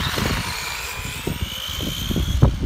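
An RC car with a 540 silver can motor and 15-tooth pinion runs nearby, a rising and falling electric motor whine with gear buzz and bursts of tire and chassis noise, no talk.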